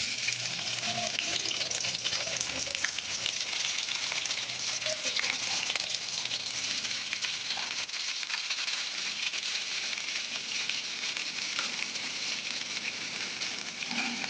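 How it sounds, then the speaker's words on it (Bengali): Onions sizzle and fry steadily in hot oil in a pan, a continuous loud crackling hiss with no talking throughout. "পেঁয়াজগুলো এবার লাল লাল করে ভেজে নিতে হবে।"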